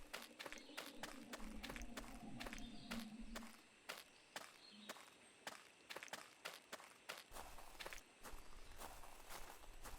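Footsteps of a player character crunching across winter ground in the video game Prehistoric Hunt, a steady walking rhythm with a short pause midway, quiet and alone.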